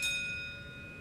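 A bell in an oil change advertisement gives one clear, bright ding that rings out and fades smoothly over about a second against a faint background hum.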